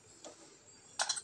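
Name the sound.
mustard seeds crackling in hot oil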